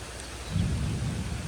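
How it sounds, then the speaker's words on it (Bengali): Thunder rolls low across the sky during rain over a village, a short, deep rumble swelling after a moment above a steady patter of rainfall. "আকাশে গুরুম গুরুম শব্দ হচ্ছে।"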